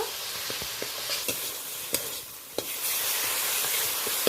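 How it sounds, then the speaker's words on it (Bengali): Masala sautéing in hot oil in a pan for an egg and dal dish, a bright steady sizzle broken by a few sharp spatula scrapes and taps, close up with no voices. "তেল ছাড়া পর্যন্ত মশলাটা ভালোভাবে কষিয়ে নেব।"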